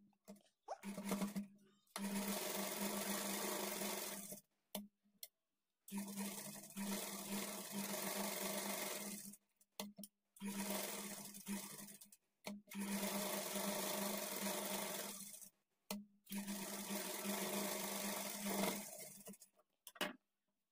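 Sewing machine stitching the lining of a blouse to its main fabric, running in several loud bursts of fast whirring, each a few seconds long and separated by short silent pauses.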